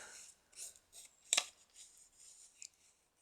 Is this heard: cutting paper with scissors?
yes